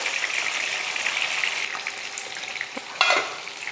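Fish frying in oil for meen varuval, a close hissing sizzle with light spattering crackles that fades slightly and then flares with a sharper burst near the end.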